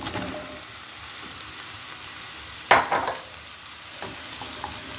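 Okra fries in a pan with a steady sizzle, and a sharp scraping clatter midway as it is stirred with spice masala, followed by a few softer scrapes.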